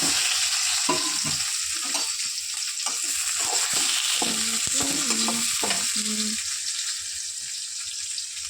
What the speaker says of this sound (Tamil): வெங்காயம் போட்டுக்கலாம். வெங்காயம் நல்லா வதங்கட்டும்.